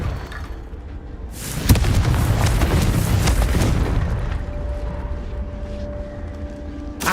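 Confringo fire spell in Hogwarts Legacy bursting in a loud, booming explosion that rumbles and decays over several seconds, followed by quieter ambient game sound.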